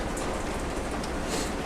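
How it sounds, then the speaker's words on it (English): Heavy rain with some hail pouring down outside a narrowboat on a river in a dense, continuous hiss, with faint brighter patters now and then. "we've got hail hitting right now outside. Mainly heavy rain, but some hail."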